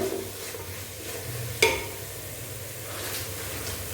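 Biryani masala with added spice powders being stirred in a pot, a low steady sizzle with one sharp clank of the spoon against the vessel partway through.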